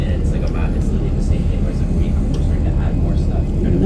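An airplane takes off at San Francisco International Airport, heard as a steady, loud broadband jet roar that stays constant throughout, with faint voices underneath.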